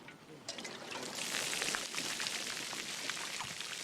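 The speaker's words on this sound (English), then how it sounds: "On the CO's order, you will upend your canteen." Water splashes out of upended army canteens onto the ground, a dense pattering rush that swells after a quiet start and continues steadily, with faint voices in the background.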